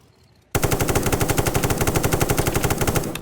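Automatic rifle fire in Apocalypse Rising 2, a whole magazine sprayed in one long burst: rapid, evenly spaced shots that start abruptly after a quiet half-second and hammer on loud and close to the end.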